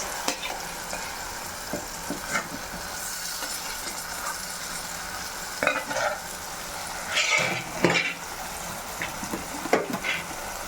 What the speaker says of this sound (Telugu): ఇప్పుడు ఫ్రై చేసిన ఎండు చేపలు వేసుకోవాలి ఫ్రెండ్స్